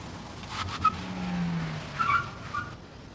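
A car skids on a rain-wet road with a drawn-out tire squeal, set against a steady hiss of traffic and rain, with short sharp screeches layered above it.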